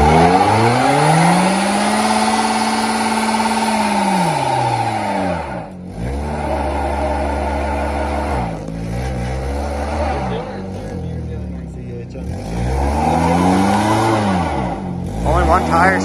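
A Kia Forte spins its tires in a burnout, the engine revving up and down in long rising and falling sweeps, loud and close, while people talk over it.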